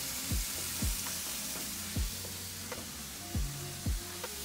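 Vegetables sauté in a pan with a soft, even sizzle, overlaid by periodic low thumps and sweeping scrapes from stirring at a moderate distance.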